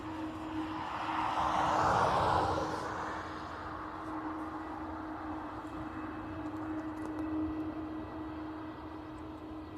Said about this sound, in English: Next in we have an Aer Lingus A320 from Birmingham